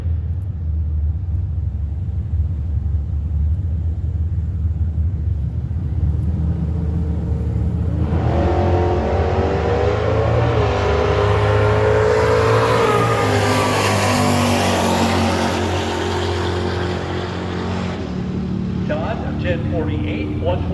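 A 1979 Mustang and a Challenger drag racing. Engine rumble idles at first, then a loud surge of revving and acceleration roars past for several seconds before fading. Crowd noise and an announcer's voice sit under the roar.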